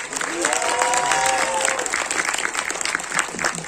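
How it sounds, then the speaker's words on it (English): A round of applause from the audience at a film festival results ceremony, dense steady clapping filling the room, with a voice talking over it near the start. "Can we have a big round of applause?"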